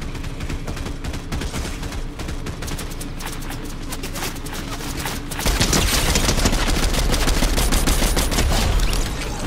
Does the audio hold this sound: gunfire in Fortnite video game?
yes